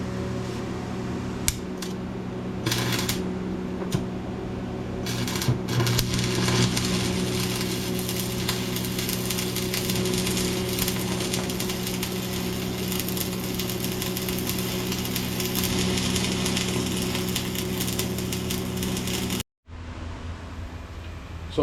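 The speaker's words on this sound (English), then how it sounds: "we are milling out a slot" Steady machining on a small budget rotary table, an end mill cutting a slot in a hinge part for a surface grinding attachment, with a constant motor hum and tonal whine for about twenty seconds before a brief cut-out.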